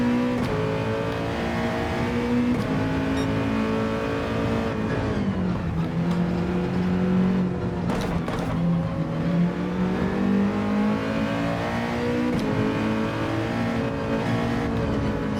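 A Nissan GT-R GT3 race car in Gran Turismo 7 at Sardegna, its engine revving steadily with pitch dips and climbs as it shifts through gears, loud and continuous.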